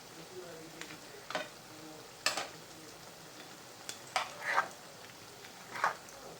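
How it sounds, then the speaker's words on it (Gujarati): Shrimp fry over a low gas flame, a steady sizzle punctuated by several scraping, clattering bursts as they are turned over in the pan. "ઝીંગાને ફેરવી કરવાના એટલે એ પાકી જાય ફટાફટ."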